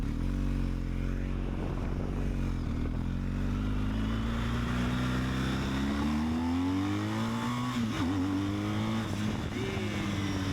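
BMW 1250 GS or KTM 1290 adventure motorcycle accelerating at half throttle in its weakest riding mode, a loud continuous engine note climbing steadily in pitch with a brief dip near the end, close to the mic with no talking.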